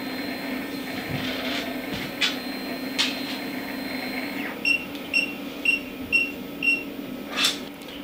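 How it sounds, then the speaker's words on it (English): A Taz 6 3D printer unloads filament, with a low motor hum and faint clicks first, then a regular series of short whirring pulses near the end, with no talk. "it's technically doing an unload right now because it thinks it still has filament"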